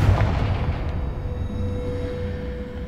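A Confringo blasting spell goes off in Hogwarts Legacy as a single deep, rumbling explosion. It hits hardest at the start and then fades into a long, low roar.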